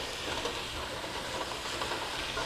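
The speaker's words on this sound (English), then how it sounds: "So we're just going to let it saute up and soften some." Zucchini sautéing in a pan, giving a steady, fairly soft close sizzle and hiss with faint stirring texture throughout and no voices.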